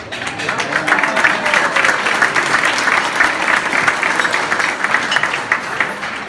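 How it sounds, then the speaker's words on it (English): Guests at a dinner dance applaud, a loud, sustained round of clapping with steady texture and slight rises and dips, a few voices faintly beneath. "Are you applauding because he's an Englishman?"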